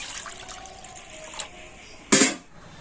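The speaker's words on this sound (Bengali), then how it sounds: "এবারে একটা জায়গাতে করে আমি জল নিয়ে নিচ্ছি" Water is poured into a container in a kitchen in one brief, bright splashing gush that follows a few quiet clinks and fades quickly.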